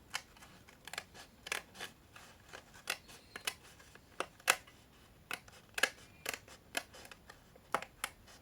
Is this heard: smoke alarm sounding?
no